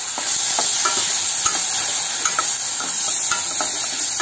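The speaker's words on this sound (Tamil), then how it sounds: "தக்காளி வெங்காயம் பூண்டு இஞ்சி எல்லாம் நம்ம நல்லா வதக்கிட்டோம்னா பச்சை வாடை போயிடுங்க" Ground tomato with onion, garlic and ginger sizzles steadily in a hot pan for a millet pasta dish, with soft scraping stirs ticking through the constant close frying hiss.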